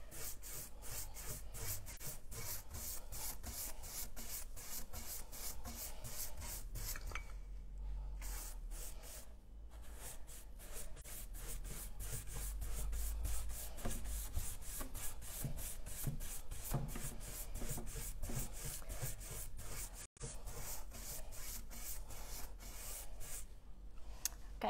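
Painted furniture is sanded by hand in quick, rhythmic back-and-forth rasping strokes that continue steadily and close up. The scratching is faint, and no one talks.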